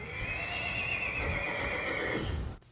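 A parade horse leased by a Mardi Gras crew whinnies in one long, loud neigh lasting over two seconds, close to the microphone, then cuts off abruptly, with faint background noise and no voices.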